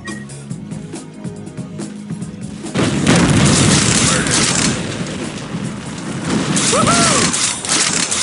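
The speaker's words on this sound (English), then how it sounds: "The higher they fly, the louder the explosion." A loud, sustained explosive roar erupts a few seconds in during a match of Unreal Tournament 2004 and rumbles on to the end, with faint synthetic game tones over it.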